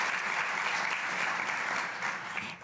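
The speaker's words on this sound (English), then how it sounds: "give yourselves a round of applause" An audience at a regional economic conference applauds, a dense steady clapping from a full room that holds for a couple of seconds and then begins to thin out.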